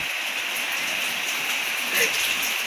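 Steady rain falling outdoors, heard as a dense, even wash of hiss that stays loud and constant, with no speech over it.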